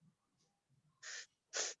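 Two loud, abrupt sneezes about half a second apart end a quiet stretch of soft breathing during a casual podcast conversation between friends.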